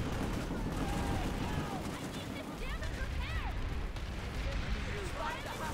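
Gunfire in the game Planetside, a dense stream of shots and blasts under a man's speech, steady and close, with whistling tonal effects scattered throughout.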